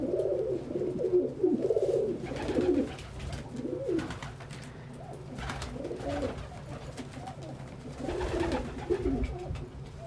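Pet pigeons or doves cooing steadily in a room, several soft overlapping coos repeating throughout at close range, with no talking.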